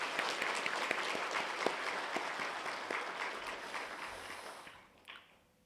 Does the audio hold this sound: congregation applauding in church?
yes